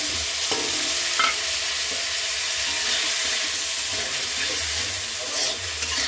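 Spice paste frying in a pan for a Bengali fish curry, giving a steady, close sizzle with occasional stirring scrapes and clinks throughout.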